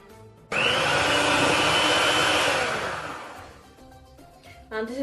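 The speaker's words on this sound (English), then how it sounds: "So whisk this until soft peaks." Dalgona coffee mixture being whisked to soft peaks with an electric whisker, a loud continuous whirring drone that starts suddenly and gradually softens, with clinks at the end.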